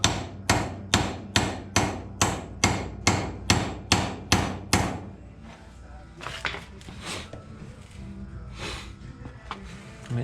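Hammer blows drive a part into a Dana 25/27 Jeep axle knuckle during a rebuild, about ten sharp, evenly spaced metallic taps up close, then quieter scattered knocks and handling noise.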